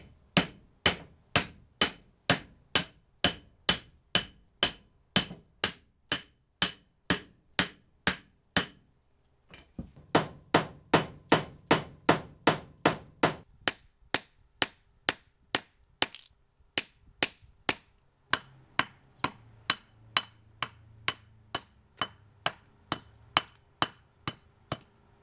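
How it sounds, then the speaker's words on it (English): Steady hammer blows drive bricks into a hole in a shed floor, dozens of sharp, evenly spaced strikes close by, pausing briefly near the middle before resuming at a similar pace. "So I'm going to hammer that in and then chisel the top off."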